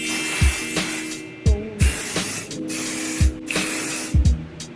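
VS1 Refresh helmet and jacket deodorizer spray fires in several sharp, loud hissing bursts, each cut off abruptly, with short pauses between them, close up and without talk.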